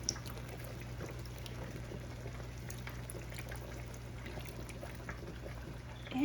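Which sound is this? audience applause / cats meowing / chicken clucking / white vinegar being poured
white vinegar being poured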